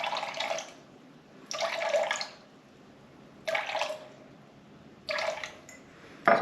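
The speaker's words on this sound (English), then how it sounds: "I'm gonna add 350 to 360 grams of water," Filtered water pours into a sourdough starter in four separate bursts, each a steady close splashing stream lasting about a second, with quiet gaps between them.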